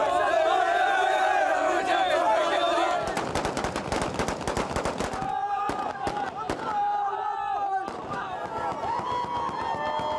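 Repeated bursts of celebratory gunfire crackle in rapid volleys, some near and some farther off, amid shouting and cheering voices in the streets of Qasir Ben Ghisheer, a small town near Tripoli airport.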